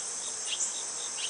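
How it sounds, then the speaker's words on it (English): Honeybees at a hive buzz faintly with a steady high hum, a few individual insects droning closer for a moment. "Yeah, got a few bees."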